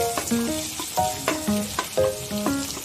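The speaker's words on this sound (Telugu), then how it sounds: "ఇప్పుడు మనం ఆయిల్లో ఆనియన్స్ వేసేసుకుందాం" Onions sizzle in hot oil in a pan, a continuous frying crackle with a few stirring strokes, all under a rhythmic melodic tune.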